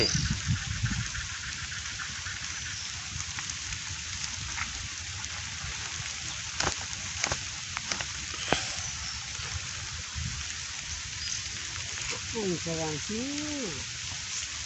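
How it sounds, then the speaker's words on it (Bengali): Light drizzling rain falls over a village river during cast-net fishing, a soft, steady patter with a few sharper drips, while a voice speaks briefly near the end. "এই যে বৃষ্টি পড়তেছে বৃষ্টি আর থামে না টিপটিপি শুরু হয়েছে"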